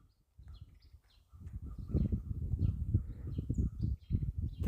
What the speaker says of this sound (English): A bird that sounds like a frog.